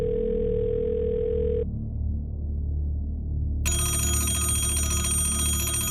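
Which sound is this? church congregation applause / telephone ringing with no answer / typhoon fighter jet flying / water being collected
telephone ringing with no answer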